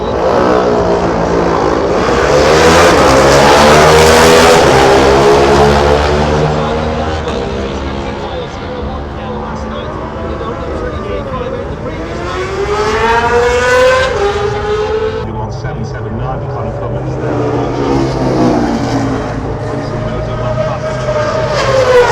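A Yamaha racing motorcycle at the Isle of Man TT screams past loudly, its engine pitch sweeping up and down through gear changes. A second pass follows later, with talk over the roar.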